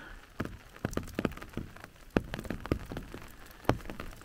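Rain patters on the ground in Andalusia, a steady spray of close, irregular drops with sharper individual hits scattered through, and no voices.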